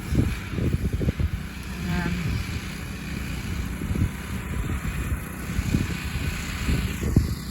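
Strong storm wind of about 35-40 mph buffets the microphone in uneven gusts, a low rumbling roar that swells and drops throughout, with faint background noise outdoors.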